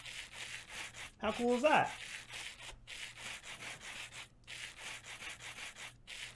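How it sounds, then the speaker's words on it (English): Rose quartz being sanded with sandpaper in Minecraft's Create mod, a steady repeating rubbing, scraping loop with regular short gaps, heard alongside a voice talking. "you hold sandpaper in your offhand, and you hold the rose quartz in your main hand, and hold right click"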